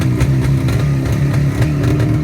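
A 1968 Suzuki T500 Cobra motorcycle engine idles slightly high while still cold, a loud, close, steady rapid putter with no voices over it.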